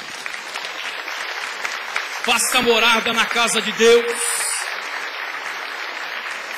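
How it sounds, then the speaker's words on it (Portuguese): A church congregation applauds during a service, with sustained broadband clapping that swells midway while someone speaks over it. "você pode aplaudir ao Senhor?"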